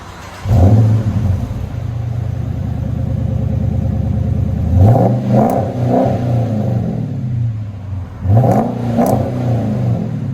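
A Chrysler 300C's 5.7L HEMI V8 rumbles at idle, then revs hard in several loud bursts through a raw straight-pipe exhaust. No one speaks.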